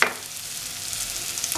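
Raw plantain pieces are turned in a frying pan with a short scrape at the start, followed by a continuous soft sizzle and light stirring rustle, close and alone.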